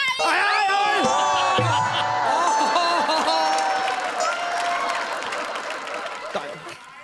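Studio audience applause and cheering at a Marathi comedy show, a dense burst of clapping mixed with laughter and whoops that holds steady and then slowly thins out.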